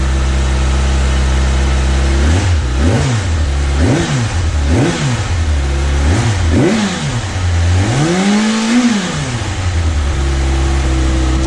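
A car engine with stock exhaust idles, then revs up and down in several quick bursts followed by one longer, deeper rev; steady and fairly loud, no voices.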